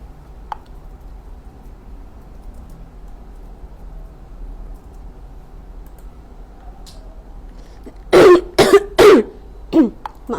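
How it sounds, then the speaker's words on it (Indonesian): A few coughs from a single person near the mic, two or three sharp bursts close together, then a softer one, after a stretch of quiet room hum. "Maaf batuk."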